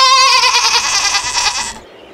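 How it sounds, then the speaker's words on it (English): A goat gives one long, wavering bleat, loud and close, with nothing else heard before it cuts off near the end. "I don't even know what's wrong with that goat."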